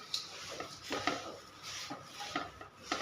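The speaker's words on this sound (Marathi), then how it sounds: "मंद आचेवर छान भाजून घेऊ, पोहे छान कुरकुरी होईपर्यंत" Poha flakes roasting in a pan over a low flame are stirred with a wooden spatula, making soft, rhythmic scraping and rustling strokes about every half second, quiet and close with no talk.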